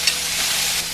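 King oyster mushrooms sizzling in brown rice oil in a preheated pot, a steady bright hiss of frying that holds evenly and close, with a slight clatter at the start.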